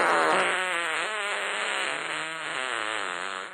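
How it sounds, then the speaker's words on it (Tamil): A long, loud, buzzing fart ripples continuously for several seconds with a wavering pitch, close and alone, in a Tamil comedic scene. "குசு விட்டு மாட்டு தேத்திட்ட"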